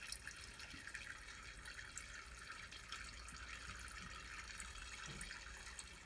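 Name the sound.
grape juice dripping back into wine must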